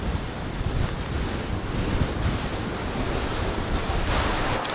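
Strong gusting wind buffets the microphone on a hike along a rural road, a loud continuous roar with rushing surges and no speech.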